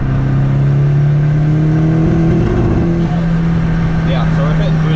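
Nissan S13 turbo engine revving hard under load against its boost limit around 21 psi, a loud steady droning tone rising in pitch, with whooshing turbo noise and a voice talking over it.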